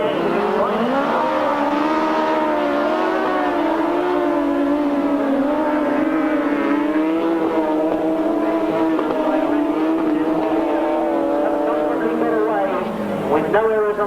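Grasstrack racing machines roaring through the last lap, a loud sustained engine wail with shifting revs, under continuous commentary from a voice.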